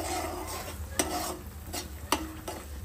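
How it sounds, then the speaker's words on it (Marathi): Masala frying in a pan at home, a low sizzle broken by several sharp scrapes and clinks of a spoon stirring against the metal, near and fairly quiet. "आता आपला मसाला होतोय फ्राय."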